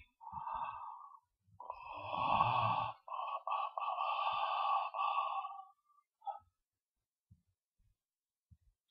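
Someone yawns several times in a row during a breathing exercise, drawn-out breathy, voiced yawns close up with a short gap between them, then quiet with faint small noises.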